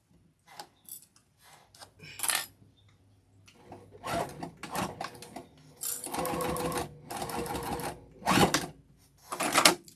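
Sewing machine back stitching a Nantucket boxy bag with a quilting needle, short bursts of rapid mechanical stitching separated by pauses, close and fairly loud.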